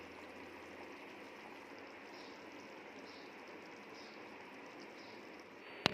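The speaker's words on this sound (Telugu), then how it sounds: "మరుగుతుంది చేపల పులుసు, ఆల్మోస్ట్ వస్తుంది ఇక." Fish curry simmers in a pot with a soft, continuous bubbling, faint and steady, then a brief clink right at the end.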